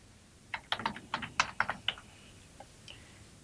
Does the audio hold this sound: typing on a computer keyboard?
yes